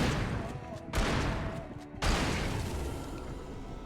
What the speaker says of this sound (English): There goes all my shotgun ammunition.